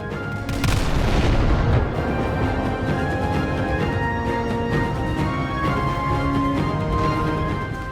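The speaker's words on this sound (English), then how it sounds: "if I could get an explosion like that some more" Loud boom of an explosion in the Roblox naval battle game Naval 1945, followed by sustained rumbling artillery-like roar and tonal battle noise continuing steadily for several seconds.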